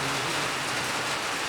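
Steady rain pours during an outdoor cricket match, a dense, even hiss of drops on surfaces that stays loud and unbroken throughout with no voices over it.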